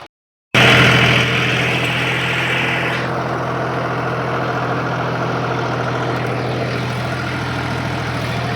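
A tractor engine starts up and settles into a loud, steady idle with a deep, rumbling drone that continues throughout.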